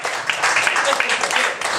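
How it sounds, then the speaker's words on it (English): Audience applause at a live show for a volunteer called up onto the stage, a dense continuous wash of clapping that holds at a strong steady level for the whole stretch. "give a big round of applause for this fella down here"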